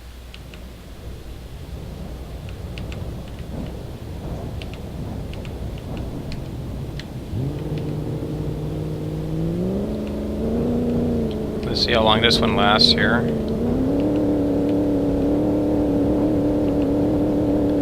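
A Chevy V8 engine in BeamNG Drive, fitted to a classic GM car, hums steadily and then climbs in pitch in stepped revs while a person talks over it.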